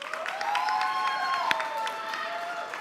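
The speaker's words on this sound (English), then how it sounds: "So give them a round of applause once again" Conference audience at an indaba gives applause, a moderate wash of clapping and some cheering underneath a sustained tonal music bed, with one sharp thump midway.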